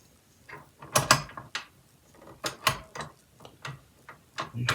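A whisk attachment gets fitted into a KitchenAid stand mixer, a close series of sharp metallic clicks, taps and ratcheting clunks in an irregular rhythm, with no one talking.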